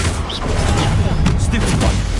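Spell-casting effects from the Hogwarts Legacy video game, a dense, continuous barrage of loud magical blasts and booming impacts, with a voice shouting over the din.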